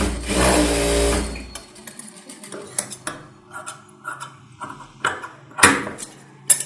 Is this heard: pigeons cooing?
no